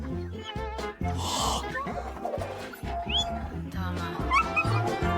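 A dog whimpers and yips amid other noise and voices, with short high whines and a few barks, fairly close.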